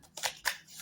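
Tarot cards being shuffled, a couple of quick papery riffles close up in a quiet room, lasting under a second.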